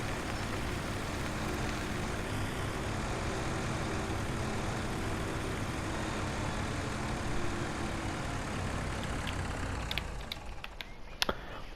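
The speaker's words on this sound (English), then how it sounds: "It's my little baby tractor for this farm" A small tractor engine in the video game Farming Simulator 17 holds a steady low rumble throughout, then fades near the end with a few faint clicks, and no talk.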